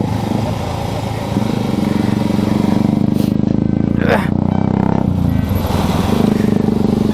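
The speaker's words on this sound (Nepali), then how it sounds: "हामी चाहिँ क्लासिक बाइक चलाएर पछाडि पछाडि हिँडिरहेको छौँ" A classic motorcycle engine running steadily while riding with friends on a jungle trail, a loud continuous throb with a brief rising rev partway through.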